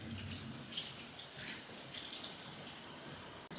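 Water runs steadily from a kitchen tap while dishes are washed, a soft continuous hiss with faint clinks, fairly close and heard alone.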